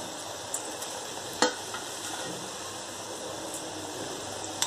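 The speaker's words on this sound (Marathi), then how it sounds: "टोमॅटो आता छान फ्राय झालेला आहे।" Onion and tomato with chili and peas frying in a pan for tomato rice, a steady hiss with a few sharp clinks of a spoon, near and alone.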